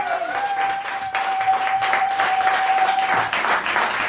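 A church congregation applauds the Lord, with dense, sustained clapping from many hands filling the room throughout, and a faint tone running beneath the first part.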